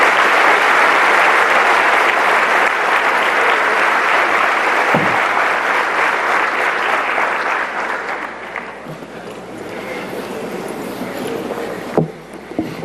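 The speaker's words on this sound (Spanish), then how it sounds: "Pido un aplauso para esa página" Loud, continuous applause from an audience at a political talk, steady for several seconds before thinning out toward the end, with a few scattered claps and a faint bump near the close.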